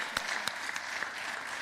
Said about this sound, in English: we're thanking them very much with clapping our hands